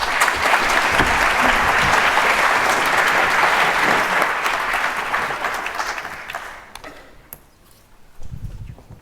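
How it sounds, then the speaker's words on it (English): An audience at an energy summit panel gives a loud round of applause for the guests, a dense wash of clapping that fades out toward the end, followed by a few faint sounds. "please have a round of applause for our wonderful guests"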